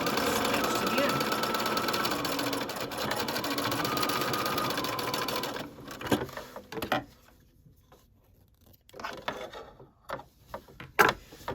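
A sewing machine runs steadily while stitching a folded-under edge on a wrap dress, a long continuous burst that stops midway, followed by quieter handling clicks and rustling with a voice talking.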